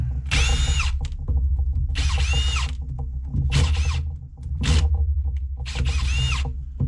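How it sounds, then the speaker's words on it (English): A fast brushless power drill backs screws out of a nitro RC model in four separate high-pitched whirring bursts, each about a second long, with clicking handling noise and a steady low hum between them. "This hard brushless drill, boy, ain't no joke."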